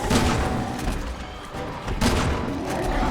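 Gunfire in the video game Resident Evil 6 produces heavy, booming shots, one near the start and another about two seconds later, over a dense, noisy game soundtrack.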